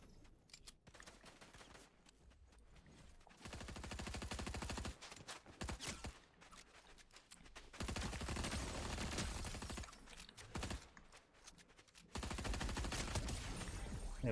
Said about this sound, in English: Is that some bullets now?